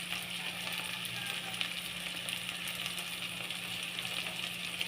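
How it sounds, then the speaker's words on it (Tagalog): Corned beef sizzles steadily while it sautés in a pan with softened tomato for Filipino ginisang corned beef, a continuous close frying crackle with a faint hum beneath and no speech. "igisa muna yung ating corned beef"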